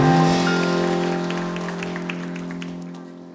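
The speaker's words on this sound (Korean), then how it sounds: "하나님께 영광의 박수 올려드리겠습니다." A church congregation claps during a Sunday worship service, scattered applause rising over a sustained, droning organ or keyboard chord that slowly decays.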